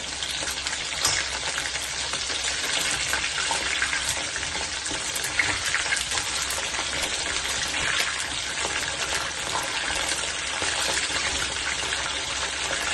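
Corn bites frying in hot oil: a steady, loud crackling sizzle that continues unbroken, with bubbling and occasional stirring, no voices.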